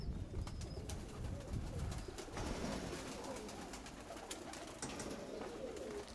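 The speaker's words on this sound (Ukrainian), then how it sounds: "Мої голуби там кіпіш наводять." Pigeons coo softly and repeatedly in Donetsk region, Ukraine, against a busy, noisy outdoor background, with occasional higher bird chirps.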